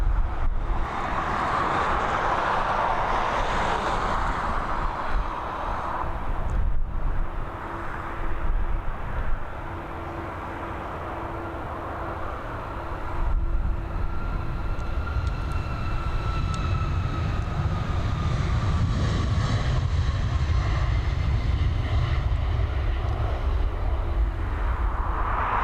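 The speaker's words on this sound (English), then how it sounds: "our next departure, this Boeing 737 MAX heading over to Tenerife" A Boeing 737 MAX takes off from Dublin Airport for Tenerife, its jet engines a loud, steady roar that builds and carries on for most of the span, heard from a distance outdoors.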